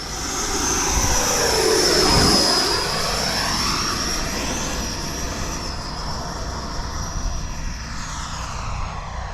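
An E-flite Viper 90mm RC jet with a ducted fan whines loudly as it sweeps low past on a landing approach, the pitch dropping as it passes near, then a softer steady whine trailing off.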